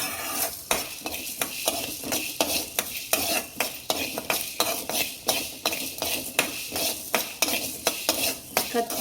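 Black pepper and spices dry roasting in a pan while a spoon stirs them, making steady, rhythmic scraping strokes about once a second over a faint dry crackle, close and fairly loud with no talking.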